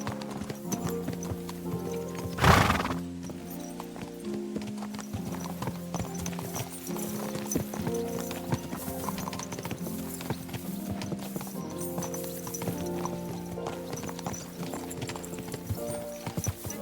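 Horses clip-clopping along at a steady trot while riding out in the medieval video game Kingdom Come: Deliverance II, hoofbeats under a continuous music score with one brief louder burst early on.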